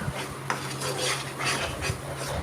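Mango murabba simmering in jaggery syrup in a pan, stirred with a utensil that scrapes and clinks against the metal in irregular strokes, with a soft bubbling hiss underneath and no talking.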